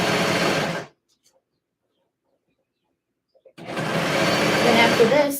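A sewing machine runs fast along a curved seam on a skort, with one burst of stitching that stops, a pause of near silence, then a second burst resumes.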